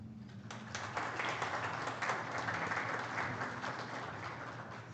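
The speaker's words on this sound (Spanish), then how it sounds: "Recibimos con un fuerte aplauso al ingeniero Carlos Aguilar." Steady audience applause at a telecommunications encryption conference welcoming a speaker, fairly quiet and even throughout with no speech over it.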